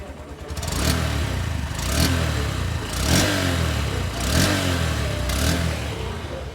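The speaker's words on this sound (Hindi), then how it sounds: "सबसे पहले मैं इंजन और एग्जॉस्ट के साउंड को आपको चेकआउट करा देता हूँ।" A 2025 Honda SP125 Special Edition motorcycle's engine and exhaust rev repeatedly from idle, about five rhythmic throttle blips rising and falling roughly once per second, close and fairly loud with no talk.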